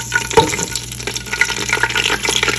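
Whole garam masala spices are stirred in hot oil, giving a soft steady sizzle with scraping stirring strokes, close and continuous.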